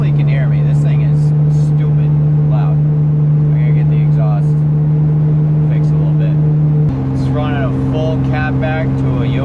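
Ford Ranger pickup engine fitted with a Yoshimura motorcycle exhaust idling with a steady low drone in the rain, shifting to a slightly higher pitch partway through, with someone talking over it.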